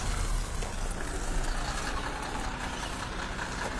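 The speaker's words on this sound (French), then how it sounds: "c'est un bus qui vient de s'arrêter là" A bus pulls up and stops nearby, its heavy engine rumbling low and steady under broad outdoor noise.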